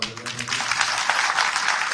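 An audience at a farmers' protest gathering claps for the farmer leaders, a dense burst of applause rising over the two seconds. A voice speaks over it at the start.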